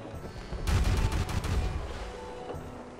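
Ship cannons firing in the pirate video game Pirates Online, a quiet burst of several quick booming blasts clustered in the first half, trailing into a low rumbling decay with fainter hits after.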